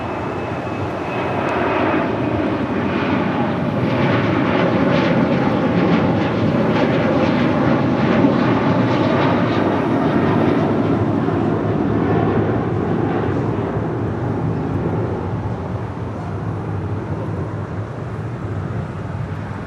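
An Air Transat Airbus A321 jet at Los Angeles International Airport gives a loud, sustained engine roar with a broad rumbling hiss, steady throughout and easing slightly toward the end.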